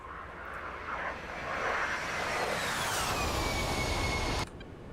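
An A-10 Warthog's engines drone in DCS World, a steady jet roar that swells while a high whine glides downward, then the sound cuts off abruptly just before the end.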